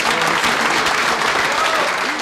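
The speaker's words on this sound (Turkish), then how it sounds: "Evet, bir alkışla Pembe'yi rica ediyoruz lütfen" A brief burst of loud, dense applause from an audience at a neighborhood stage performance, steady throughout.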